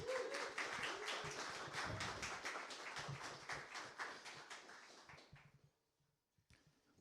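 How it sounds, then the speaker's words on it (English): A crowd claps steadily, then the applause thins out and fades away to near silence. "One more round of applause for our third place team."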